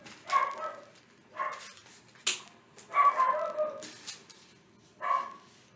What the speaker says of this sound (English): she hears the dogs out there